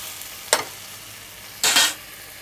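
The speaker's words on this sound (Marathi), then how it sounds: "आता आपण ही कोलंबी घालूया याच्यात. कोलंबी व्यवस्थित परतून घ्यायची आहे." Prawns sizzle in a hot pan with fried spices as they are stirred and sautéed, two distinct bursts of frying hiss, the second longer and louder, over a quiet background.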